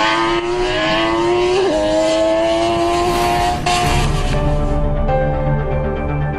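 An MV Agusta F3 675 motorcycle engine runs during factory testing, holding a loud, steady high-revving whine with a brief blip and rise partway through, close and continuous.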